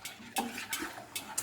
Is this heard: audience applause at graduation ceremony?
no